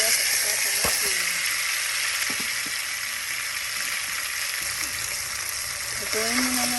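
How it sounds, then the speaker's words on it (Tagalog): Garlic, onion and tomato sauté in a hot pan with a steady, close sizzling hiss that runs the whole time, broken by a few faint clinks and scrapes. "Igisa na natin guys ang yung bawang. Sibuyas at saka kamatis."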